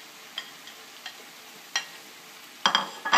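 Chicken and vegetables cooking together in a pan for bricks, a quiet sizzle with several sharp stirring clicks and a louder burst of scraping near the end.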